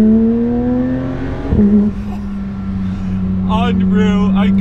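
A Porsche GT3 fitted with particulate filters revs hard and loud, its engine note climbing, dipping briefly, then holding a steady roar before rising again.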